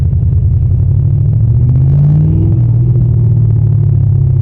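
A 2020 Jeep with no power steering rumbles steadily while driving through mud, its engine producing a loud, continuous low growl that holds throughout with a slight swell midway.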